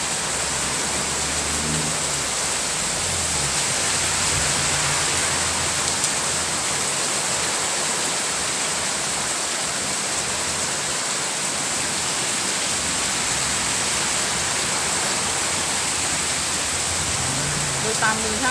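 Heavy rain pours down in a dense, steady roar that fills the whole stretch without letup, loud and close, with no talking heard.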